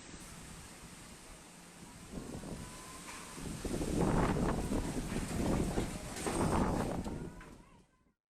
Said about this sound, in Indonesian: angin kencang membuat panik warga